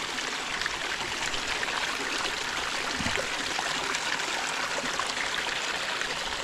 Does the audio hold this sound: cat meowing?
no